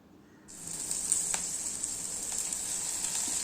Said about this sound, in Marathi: शिमला मिरची थोडंच फ्राय करूया.